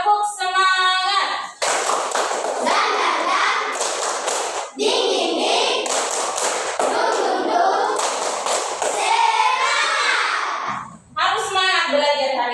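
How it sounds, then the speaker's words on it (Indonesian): Students in a classroom clap a rhythmic cheer routine in unison during a coding lesson, sharp patterned bursts broken by short pauses, mixed with children's chanting voices and a teacher speaking between rounds. "ayo kita breaking dulu sebentar ya, menggunakan tepuk semangat ya"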